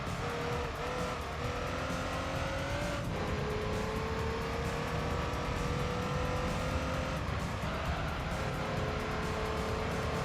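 Race car engines in Gran Turismo 3 on a mountain road drone loudly and continuously, with the pitch climbing and shifting as the cars accelerate and change gear, and no voices over them.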